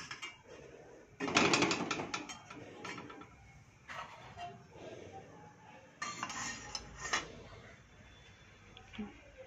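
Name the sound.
bowls placed in a pot, clinking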